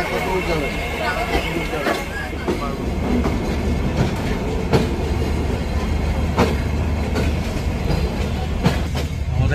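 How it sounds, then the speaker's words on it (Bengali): Crowded passenger train leaving Khulna bound for Chilahati, a loud rumbling run on the rails with rhythmic clickety-clack and wheel noise heard from inside the carriage, with passengers talking throughout. "ট্রেনটি খুলনা থেকে ছেড়ে দিল"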